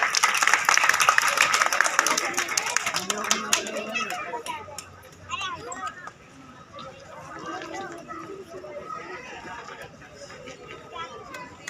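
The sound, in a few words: audience clapping at a Ram Leela performance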